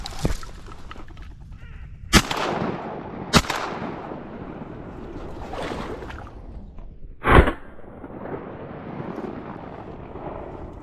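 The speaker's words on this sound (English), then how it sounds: "Shot a little to the left of him that first shot" Shotgun blasts ring out during public-land kayak duck hunting for mallards, several loud, sharp reports spread across the clip with echoing tails, set against wind and outdoor ambience.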